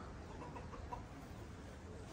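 Chickens around a rooster in a French backyard flock cluck softly and steadily at close range, a low continuous murmur with one slightly sharper call near the middle and no voices.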